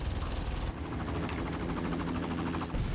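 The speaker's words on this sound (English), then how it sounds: "another little helicopter to fly in." Helicopter flying in during Far Cry gameplay, a steady loud rotor-like drone with dense mechanical texture running through the whole stretch, dipping briefly partway and swelling again near the end, with no talk over it.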